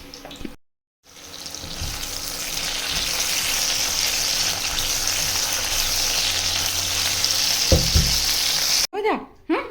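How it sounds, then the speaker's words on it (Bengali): Round potato slices frying in a home kitchen, a steady, close sizzle that holds loud for most of the time, cut by a short silent gap near the start and a few pan knocks toward the end. "এই যে আলু ভাজা, গোল গোল আলু ভাজা"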